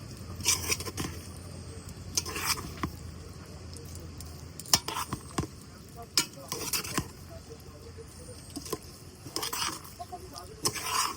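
A spoon stirs homemade biryani in a pot, giving repeated scraping, clinking strokes at an irregular rhythm over a low background, fairly close and moderately quiet.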